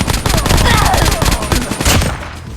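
Dense, loud gunfire in Call of Duty Mobile, a rapid continuous burst of automatic shots close up with overlapping impacts and a voice talking briefly over the top.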